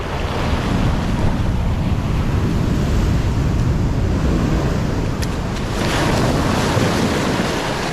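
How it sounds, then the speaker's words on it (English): Six- to eight-foot ocean waves crash and roll continuously at the Wedge, a loud, dense surf roar buffeted by heavy wind noise on the microphone, with no voices. "These are 6 or 8 foot waves behind me."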